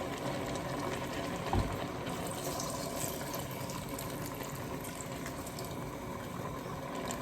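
Red wine poured into a pan of red onion chutney, a continuous steady liquid rush with a faint bubbling hiss throughout.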